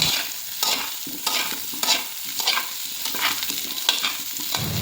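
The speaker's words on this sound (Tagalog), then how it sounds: "Medyo tinagalan ko yung paghalo para kumapit yung lasa ng bawang at sibuyas sa patatas." Potatoes sautéed with garlic and onion are stirred in a hot pan, with rhythmic scraping strokes about every half second over a steady close sizzle and no talking.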